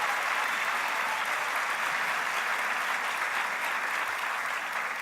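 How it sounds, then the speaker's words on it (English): A CPAC audience applauds steadily, a dense wash of clapping hands holding an even level throughout without letting up. "Give her a round of applause"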